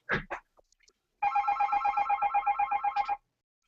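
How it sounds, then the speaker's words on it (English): A telephone rings in a room being shown with bunk beds and lockers, a steady rapid trill of repeated bell pulses lasting about two seconds after some brief handling noises, loud and close. "Somebody's on the phone."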